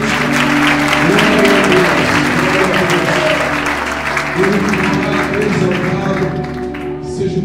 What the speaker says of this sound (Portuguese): Aplauda Jesus bem forte nessa noite.